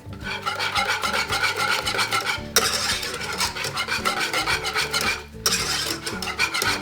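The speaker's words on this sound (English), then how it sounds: "I'm just going to keep whisking this" A whisk scrapes and rasps rhythmically through homemade vanilla custard in a pan, fast steady strokes with two brief pauses, close and clear with no talking.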